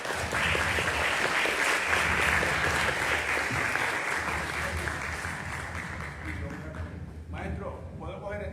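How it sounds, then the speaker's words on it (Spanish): Audience applause for a Dominican writer at a literary talk, loud, dense clapping that fills most of the stretch and then thins out as a few voices come in near the end. "Un aplauso para Joan Fuenteado"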